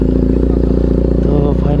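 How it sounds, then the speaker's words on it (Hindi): A motorcycle that had a battery problem runs with a loud, close, steady low engine throb, and someone talks over it. "तो फाइनली अपनी बाइक चालू हो गई"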